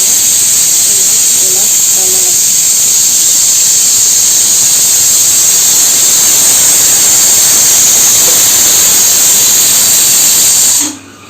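Steam escaping while lentils cook in a pot, a loud, steady hiss sustained close up for about eleven seconds before cutting off abruptly, with faint talk briefly in the background early on.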